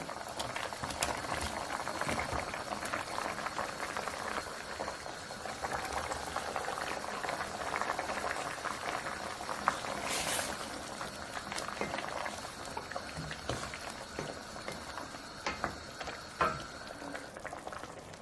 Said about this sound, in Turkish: Yemeğimiz tam 10 dakikadır pişiyor.